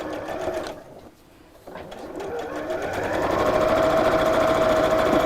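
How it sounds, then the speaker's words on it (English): A domestic sewing machine stitches straight across a fabric bag seam, running briefly, pausing for about half a second, then starting again and building into a loud, steady motor whir close to the microphone. "then I can sew straight across there to close it"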